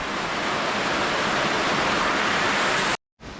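Heavy rain pours down in a dense, steady roar at a backyard farm beside barracks, loud and continuous, cutting off abruptly near the end before resuming.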